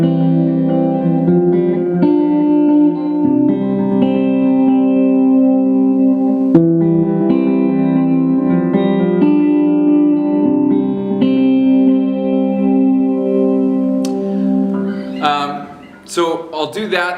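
Distorted electric guitar lead line for the chorus of a song, sustained notes with effects and reverb ringing over chord changes, close and loud, ending in a few sharp plucks.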